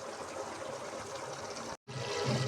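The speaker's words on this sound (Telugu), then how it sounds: "మటన్ కైమాలో వాటర్ వేస్తున్నానండి." Water is poured into mutton keema cooking in a pressure cooker, a faint, steady splashing stream that briefly cuts out and then resumes.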